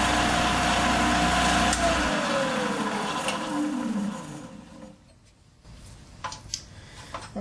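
A Shopsmith Mark V woodworking machine with a repaired headstock whines loudly as it runs, then its pitch sweeps down as it coasts to a stop, leaving a few faint knocks and rattles in the quiet.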